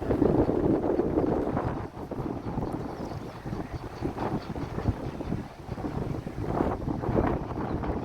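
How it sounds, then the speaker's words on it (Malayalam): Strong cold wind buffets and rumbles continuously, gusting up and down in loudness with no voices. "ആഹാ, തണുത്ത കാറ്റ്, തണുത്ത കാറ്റാണ്, തണുത്ത കാറ്റ്"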